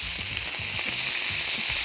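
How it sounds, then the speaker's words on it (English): Pork spare ribs sizzle in bacon fat on a flat griddle, a loud, steady close-up frying hiss with small crackles and no voices. "A flare up on the griddle. That's bacon fat for you, Nate."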